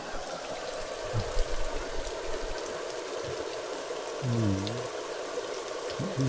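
Water gushes steadily from a burst pipe along a mountain trail on Vitosha, a constant broadband rush close by with a few faint low bumps underneath.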